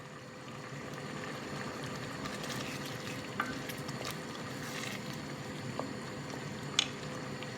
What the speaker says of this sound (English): You can see the water is reducing really well. It's bubbling away.